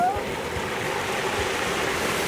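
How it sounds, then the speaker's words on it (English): Seafood sizzles hard in hot oil at a Jakarta street food stall, a dense continuous frying hiss at steady, close volume. "Now it's going to fry it."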